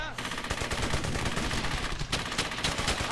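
Sustained rapid gunfire from World War II weapons in the shooter game Brothers In Arms: Hell's Highway, dense overlapping bursts and shots filling the whole stretch at high volume, with occasional voices mixed into the battle.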